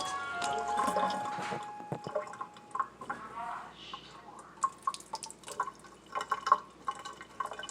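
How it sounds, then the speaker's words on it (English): Water is poured out of a bowl of soaked, swollen biscuits for a parrot, producing close trickling, splashing and scattered drips that fade into intermittent small drops. "So I'm just going to pour the water out."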